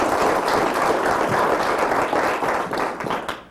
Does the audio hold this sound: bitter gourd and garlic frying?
no